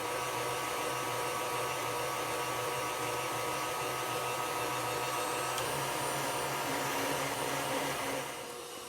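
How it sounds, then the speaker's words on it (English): An electric mixer whisks egg whites with sugar toward peaks for a chiffon cake's Italian buttercream, giving a steady, loud motorized whir that runs continuously and alone before easing off at the very end. "I'm just going to continue whisking my egg whites until they reach the peak"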